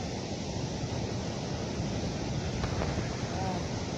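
Steady broadband rushing roar of the Bhivtas waterfall in the Surgana forest, continuous and fairly close, with faint voices in the background.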